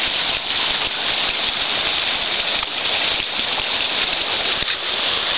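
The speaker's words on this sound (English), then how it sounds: "It's a beautiful rain though." Rain falls steadily outdoors as a dense, even hiss that holds at a constant moderate loudness throughout, with no voices.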